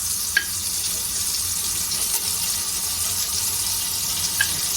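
Mastic melting in heated butter in a pot gives a soft, steady sizzle with faint occasional ticks and a light stirring scrape, close and fairly quiet.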